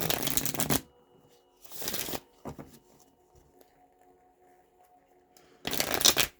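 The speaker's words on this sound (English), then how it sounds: "some people don't like to shuffle their cards like decks" Several riffling bursts of a tarot or oracle card deck being shuffled, with quiet pauses and a few soft clicks between them.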